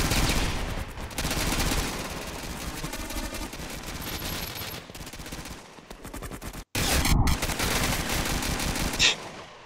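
Sustained automatic gunfire in a first-person shooter video game, loud and close, with dense rapid bursts, a short break and a final burst of shots.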